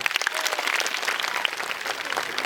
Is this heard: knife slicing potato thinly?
no